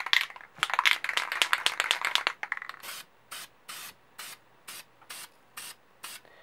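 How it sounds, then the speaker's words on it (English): Plastic spray primer goes onto an AR15 magazine in light coats, first as a dense flurry of quick hissing bursts, then as a regular series of short, even spray pulses with brief gaps between them. "So you want to do a really light coating of primer."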